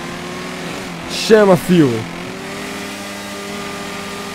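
A Kawasaki Z1000 and a BMW F800 roar off in a drag race, two sharp rising revving bursts climbing in pitch one after the other, over a steady background hum while someone talks excitedly.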